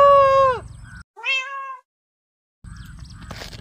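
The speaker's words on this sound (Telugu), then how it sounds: "అద్దో పిల్లి సౌండ్ వస్తుంది." A cat gives two clear, close meows, a longer one and then a shorter one, followed by a brief silence and faint background noise.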